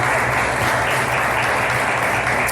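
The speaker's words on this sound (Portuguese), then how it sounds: "Vamos aplaudir o Senhor." A church congregation applauds during worship, a dense, steady wash of many hands clapping that stays loud and unbroken for the whole stretch.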